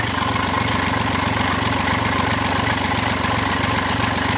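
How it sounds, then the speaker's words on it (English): A BMW engine idles loudly nearby with its exhaust blowing from the flexi pipe, giving a steady low rumble with a rapid, even puffing tick running throughout. "The exhaust is definitely blowing from the Flexi."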